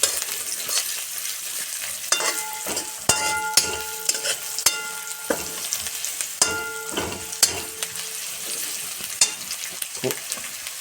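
Finely chopped onions frying in a pan for bataka pauva, a continuous close sizzle with repeated scraping stirs and clinks, faint tonal sounds running underneath for part of it.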